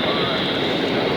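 A jet airliner roars on takeoff at Philadelphia International Airport, a loud, dense, steady engine rush that fills the whole moment without letup.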